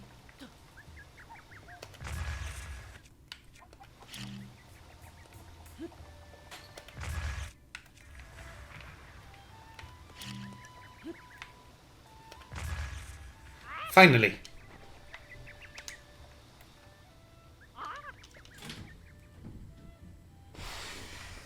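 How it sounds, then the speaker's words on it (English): A chicken clucks in the video game The Legend of Zelda: Breath of the Wild, short scattered clucks and squawks over quiet game sounds while a player talks at intervals. "Is the chicken out now?"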